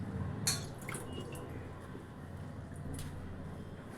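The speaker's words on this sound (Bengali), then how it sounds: "জল ছেটানি দিয়েছি।" Water is sprinkled by hand over bread slices for pakora, a few sharp close drips and spatters over a quiet kitchen background.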